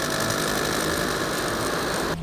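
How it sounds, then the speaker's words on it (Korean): Motor of a ball-launching machine used for jokgu and football trapping drills, a steady loud mechanical hum with dense vibration running throughout, cutting off abruptly at the very end. "아까랑 모터 소리가 달라요"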